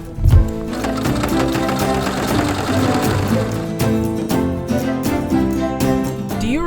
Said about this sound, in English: I will probably top stitch this down so that it looks nice and neat